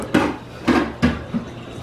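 Dishes being washed by hand at home, with several sharp clatters of plates and utensils knocking together, close and fairly loud, separated by short pauses.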